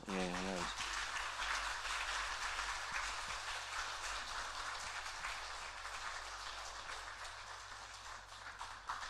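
A church congregation breaks into sustained applause during a Sunday service, a dense wash of clapping that fills the whole stretch, with a brief voice at the very start.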